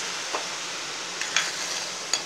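Sugar syrup for paruppu halwa is stirred in a heavy-bottomed pan over a soft simmering hiss, with a few faint, sparse scrapes and taps of the spoon and no voices.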